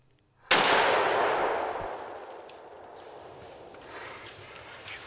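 A single rifle shot fired at a bear during a hunt in Michigan woods cracks sharply and loud, then rolls away in a long echoing decay through the trees for several seconds.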